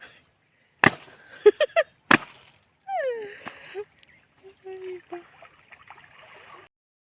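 Wet bedsheets are slapped hard against a surface during washing, giving a few sharp, close smacks in quick succession, followed by people talking and light splashing of water.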